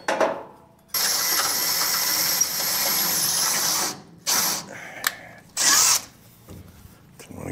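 A power drill whirs in a long steady burst, then stops and restarts in a few short bursts, loud and close, while fitting motor mounts on a 1957 Chevrolet Bel Air.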